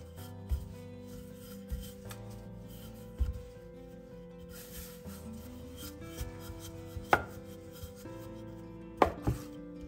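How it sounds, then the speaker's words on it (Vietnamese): A knife cuts a large round sheet of rolled dough, about 40 cm across, into pieces, giving a series of soft, close chops and scrapes on a board at irregular intervals, with a few sharper taps standing out. "Mình sẽ chia bột thành 18 phần"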